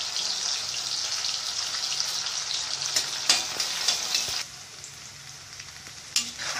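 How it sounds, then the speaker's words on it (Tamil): Small onions and green chillies frying with salt in a pan for mutton sukka, a steady close sizzle with intermittent scraping stirs, loud at first and quieter after a brief pause, no talking. "நல்லா வெங்காயம் வதங்கணும். லைட்டாக உப்பு போட்டு வதக்கிக்கலாம்."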